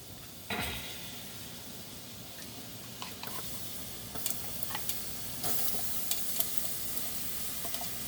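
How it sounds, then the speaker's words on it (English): Black beans sizzle steadily in a hot pot, a constant hiss with occasional clinks and scrapes of stirring, fairly quiet and close. "Now this one is sizzling"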